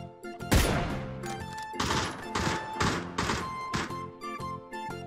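Gunshots in the battle royale game PUBG: a loud opening crack followed by about five more spaced, punchy shots with ringing tails, irregular in rhythm and close by.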